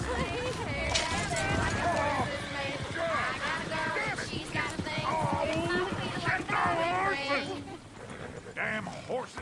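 Horses gallop in Red Dead Redemption 2, a steady clatter of hooves running under constant talk from several voices, with animal calls mixed in.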